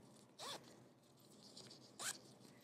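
A zipper on a crochet pillow cover pulled twice, two quick close rasping zips about a second and a half apart, fairly quiet, with no talk over them.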